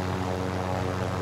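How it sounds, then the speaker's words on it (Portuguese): Helicopter in Call of Duty Warzone, a steady throbbing rotor drone with strong low harmonics, loud and close, with no talk over it. "Helicóptero, helicóptero."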